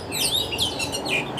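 Magpie robin birdsong: bright, whistled chirps and warbling phrases repeating near and clear over a faint background hiss, with no voices.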